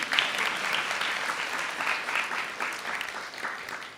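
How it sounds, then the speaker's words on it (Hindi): An audience at a spiritual talk claps for themselves, a steady round of moderate applause from a gathered crowd, even and sustained before gradually easing off. "अपने लिए ताली बजा दीजिए।"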